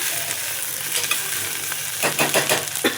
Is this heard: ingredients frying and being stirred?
yes